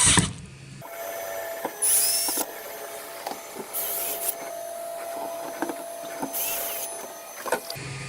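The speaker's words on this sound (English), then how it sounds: "Make sure that the inside surface is flat, and then tighten these bolts down." Bolts on a robot frame are tightened with a tool, giving repeated short whirring bursts and ratcheting clicks close by with quiet mechanical rattles between them and no speech.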